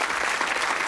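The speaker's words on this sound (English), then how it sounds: "Give me that" Studio audience at a Bullseye game show breaks into loud, dense applause, a steady wash of clapping filling the whole moment with no voices over it.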